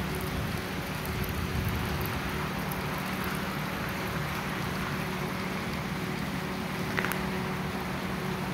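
A steady, dense hiss of heavy rain with hail pours without letup, a constant broadband wash with a low rumble underneath.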